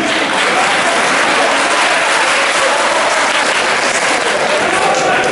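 Loud, sustained applause from a large audience, steady dense clapping throughout with no break.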